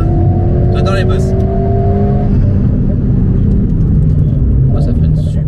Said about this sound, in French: Oh, ça freine super fort.